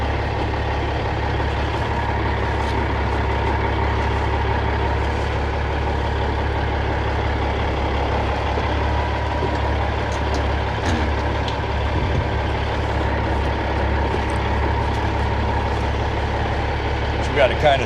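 A 1983 Kenworth K100 cab-over truck, its heavy diesel engine rumbling steadily at low revs while it drives and maneuvers, with a constant close drone throughout and a few brief knocks near the end.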